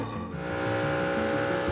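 A race car engine holds a steady, loud drone with layered tonal harmonics and slight pitch wavering, sustained throughout without pause.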